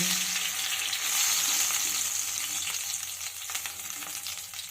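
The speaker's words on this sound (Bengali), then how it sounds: "মাছগুলো কিন্তু আমার ঠিকঠাক ভাজা হয়ে যাচ্ছে" Pomfret fish frying in hot oil in a pan, a steady loud hiss and crackle that fills the whole stretch with no talking.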